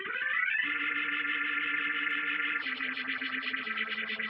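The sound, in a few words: washy Script 90 phaser effect, Tim P Nebula library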